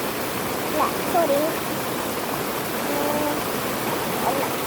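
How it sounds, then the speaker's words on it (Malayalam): Steady broadband rush of a seasonal monsoon-fed waterfall, continuous and fairly close, with a few faint tonal calls or whistles drifting over the water noise. "ആ വെള്ളച്ചാട്ടത്തിൻ്റെ വീഡിയോ ആണ് ഞാനിന്ന് കാണിക്കാൻ പോകുന്നത്"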